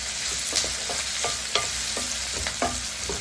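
Sliced onions sauté for South Indian chicken sukka, a steady frying sizzle with repeated spatula scrapes and stirs against the pan, close and fairly loud, with no voices.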